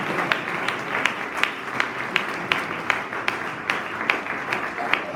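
A church congregation applauding during a Spanish-language evangelical service, a crowd of steady clapping with a few sharp, louder claps standing out at regular intervals, fairly close and continuous.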